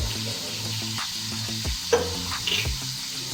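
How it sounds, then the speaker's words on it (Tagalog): Onion and garlic sautéing in a pan for a Valenciana rice dish, a steady close sizzle and fry with stirring scrapes and a few sharper clinks throughout, no voices. "Na magigisa na ng sibuyas, bawang."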